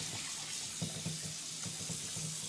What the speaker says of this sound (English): now I'm basically just running the water while stirring my hand around